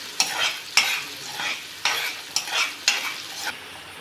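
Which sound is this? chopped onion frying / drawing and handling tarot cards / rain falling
chopped onion frying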